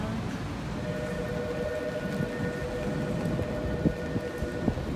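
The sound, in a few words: rain during a walk along Meguro River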